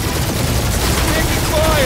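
Enemy gunfire in Guardians of the Galaxy, a dense, loud rattle of shots and blasts filling the short moment, with voices talking under the noise.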